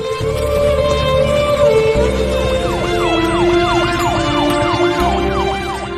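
An ambulance siren wails in a film scene, its rising and falling tone sweeping repeatedly over a steady engine hum, loud and close, with no speech.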